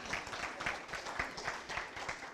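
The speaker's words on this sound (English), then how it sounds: "give yourselves a round of applause" A room of attendees at a community coffee-and-conversation event applauds themselves with brief, soft, fairly distant clapping.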